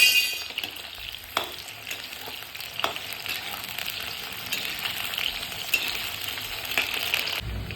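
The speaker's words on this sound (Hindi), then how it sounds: "सारी सब्जियों को इसी तरह फ्राई करते रहना है।" Okra and cauliflower frying in a pan, a continuous loud sizzle with occasional metallic clangs and stirring scrapes throughout, no voices.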